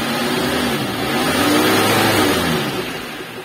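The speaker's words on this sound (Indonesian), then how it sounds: "dengan optimal sudah mesinnya anteng, tidak bergetar gitu ya sobat ya" A car engine idles steadily after a temporary engine mount and water inlet radiator repair. The hum is loud and close, swelling slightly midway, then easing off.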